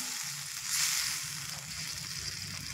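Tomato pieces and slit green chilies frying in a pan for a Mourala fish curry, a steady close hiss and crackle of sizzling oil that swells briefly in the middle, with no talk.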